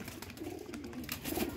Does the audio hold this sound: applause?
no